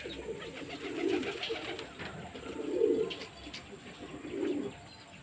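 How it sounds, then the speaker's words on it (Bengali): Pigeons circling low over a house roof give three soft, rounded coos spaced about two seconds apart, fairly close, over faint background hiss. "এই যে পায়রাগুলো নিচে চলে এসেছে আর রিং করছে এখন আমাদের বাড়ির মাথার উপরে"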